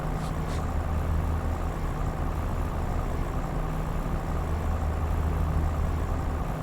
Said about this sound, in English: You could sleep to the truck's sound, it's so soothing.